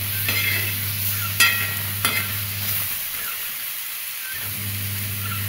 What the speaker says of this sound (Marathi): हे बघा असं आपलं चांगलं भाजून घेऊ, खमंग मंद आचेवर चांगलं डागा पडेपर्यंत.